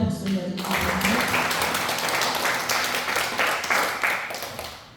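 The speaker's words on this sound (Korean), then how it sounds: "우리 주님 앞에 영광의 박수 드립니다." A church congregation at a Korean Christian camp gathering bursts into applause after a closing prayer, dense clapping filling the room steadily and loudly, with a voice or music tone lingering under the start before the clapping takes over.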